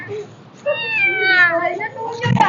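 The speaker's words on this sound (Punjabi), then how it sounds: "ਬਿੱਲੀ ਜਿਹੜੀ ਹੈ ਨਾ ਉਹ ਇੱਥੇ ਲੁਕੀ ਹੈ" A rescued, injured cat gives a single drawn-out, rising-then-falling meow up close, followed by a brief rustle.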